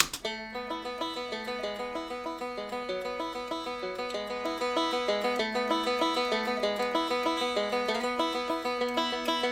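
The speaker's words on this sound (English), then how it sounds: "Just a cool rolling banjo pattern." A six-string banjo picks a steady rolling pattern of quick, evenly spaced notes, bright and close, playing alone with no voices and growing slightly louder partway through.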